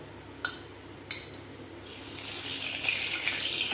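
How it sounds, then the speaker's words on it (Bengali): Bay leaves drop into hot ghee for dum chicken, with a couple of soft taps first and then a rising, steady hiss of sizzling that grows louder and continues to the end. "এইবারে ঘিটা গরম হয়ে গেছে। এবারে দিয়ে দেবো তেজপাতা ফোড়ন।"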